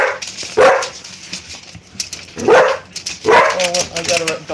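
A dog barks in a few sharp, loud bursts spread across a home interior, with a person talking over and between the barks.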